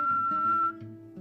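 A single person imitating a distinctive whistle, a clear sustained tone held for under a second followed by a lower, softer hum, close and quiet.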